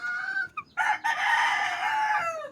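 A two-month-old chick that cannot stand gives a loud, close crowing call, a brief break and then one long drawn-out cry.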